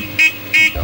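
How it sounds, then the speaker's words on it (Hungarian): An old car horn on a techno parade vehicle in Budapest, between the Parliament and the MPs' office building, sounds two loud, evenly spaced honks in a steady beat. "Még a duda is a ritmust adta a technomobilban."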